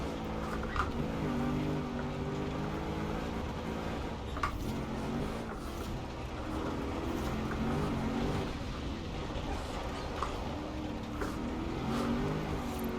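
Car engine in the video game Forza Horizon 4 sliding on dirt, a steady droning rev with rising and falling pitch as the wheels spin, continuous and fairly close.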